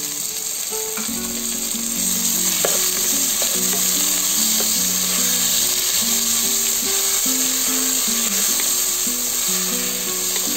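Ginger garlic paste and chopped tomato frying with onions in a pan give a steady, close sizzle with light stirring scrapes throughout, and no talking.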